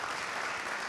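Dense audience applause fills a conference hall in La Rochelle during a talk on food in 2050, a steady, full wash of many hands clapping at once, close and continuous for the whole second.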